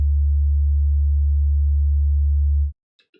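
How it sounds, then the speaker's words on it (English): A steady, pure low sine tone from an online tone generator, matching a tinnitus tone, holds evenly for nearly three seconds, then cuts off abruptly, followed by a couple of faint clicks. "that's the exact tone that I hear in my ear at all times"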